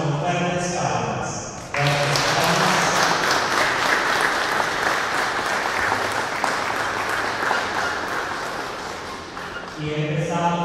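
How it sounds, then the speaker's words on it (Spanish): Loud, sustained clapping from guests welcomes a couple during a church wedding ceremony, rising abruptly after a short spoken line and holding steady before talk resumes at the close. "acogemos a estos hermanos con fuertes palmas"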